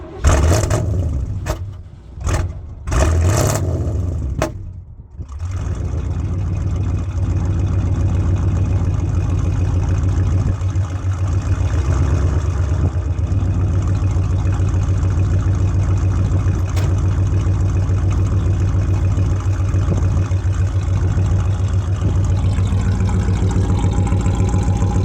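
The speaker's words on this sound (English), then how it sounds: "Put some oil in this thing and get it fired up." K30 Squarebody Chevy crew cab truck engine cranking in several short bursts, then catching and settling into a loud, steady, rumbling idle that continues close by.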